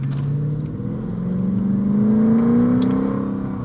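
Mercedes C55 AMG with straight pipes, Kleemann headers and valved mufflers pulling away on a dirt road, the engine droning loud and close, its pitch climbing smoothly through the rev range with a slight whir, no talk.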